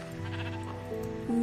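Sheep bleating in the Minecraft video game, a steady, close, clear game-sound bleat that rises into a louder, higher call near the end, with no talk over it.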